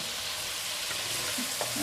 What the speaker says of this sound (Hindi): वैसे हम इसको 1 से 2 मिनट के लिए और भूनेंगे